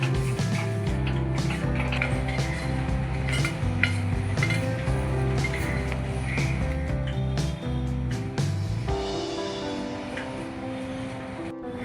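A thick mohanthal gram-flour fudge mixture being poured into a tray and spread, with steady close scraping and clinks of a metal utensil against the pan over a low background hum.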